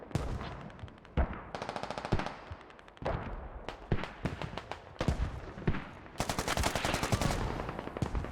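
Gunfire in the video game Squad during a large infantry fight, with repeated sharp bursts of automatic rifle fire and single shots in uneven clusters, loud and close with brief gaps between volleys.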